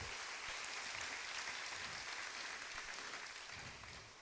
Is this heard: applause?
yes